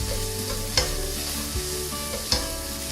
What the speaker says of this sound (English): Put the onions on the frying pan and season with salt. And stir fry them until the onions become transparent.